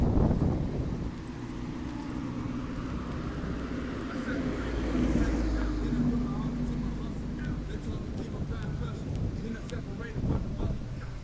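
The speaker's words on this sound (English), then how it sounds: "Not too cloudy, just pretty windy." Steady wind buffets the microphone with a constant low rumble, with a faint voice and outdoor noise underneath throughout, in Key West.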